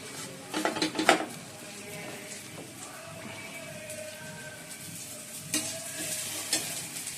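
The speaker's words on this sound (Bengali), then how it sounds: "তার সোনাকে রুটিটা সেকে দিচ্ছি।" Roti roasting in a home kitchen pan, with a soft, low sizzle and light clatters of utensils near the start and again toward the end.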